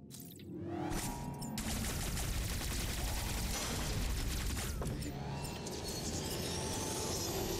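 A cannon weapon fires in the video game Metroid Dread, a loud, continuous barrage of rapid, dense blasts and mechanical rattling that runs for several seconds after a sharp start.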